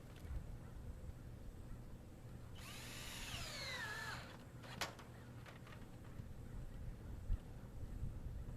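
A power drill drives screws into a metal mobile home roof panel, one whining burst with a rising then falling pitch lasting about a second and a half, followed by a few faint clicks, with a quiet background.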